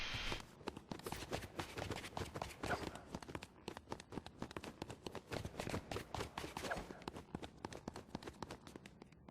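Quick, steady footsteps from non-heeled boots in the Fortnite video game, a dense rhythmic patter of thuds and scuffs running the whole time without any talking.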